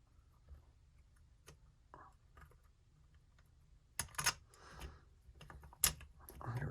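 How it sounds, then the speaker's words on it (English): Small metal screws are run into the carburetor of a Yamaha Raptor 660 ATV during a rebuild, heard as faint, close ticks and light clicks of the screw and driver, louder scrapes near the end, with no talking. "I will actually run the screws through."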